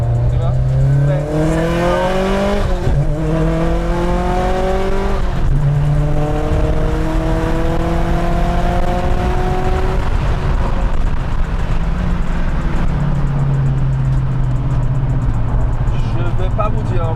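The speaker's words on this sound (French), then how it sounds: "Et je pense que là, vous allez faire une belle accélération là." A modified 360 hp Subaru STI accelerating hard through several gears from inside the cabin, engine note climbing and dropping with each shift, loud and close, with speech over it.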